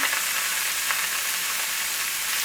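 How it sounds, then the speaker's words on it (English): Ground beef browning in a pan gives off a dense, steady sizzle at close range. A faint stirring scrape is heard once, and no one talks. "you're just browning up your ground beef"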